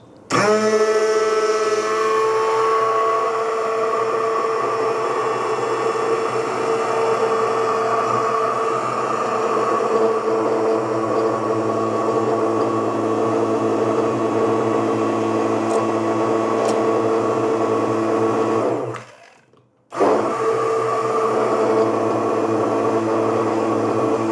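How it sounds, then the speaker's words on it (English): A blender runs steadily on homemade mayonnaise, giving a loud, continuous motorized whir for about twenty seconds. It cuts out briefly near the end and then restarts. "you hit your power and you start blending from the bottom up"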